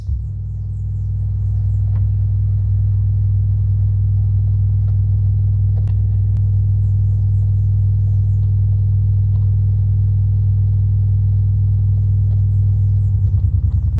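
A JBL PartyBox 720 portable speaker plugged into mains power plays a very low 20 Hz bass test tone at high SPL, a loud, steady, continuous deep hum that holds throughout with no talk.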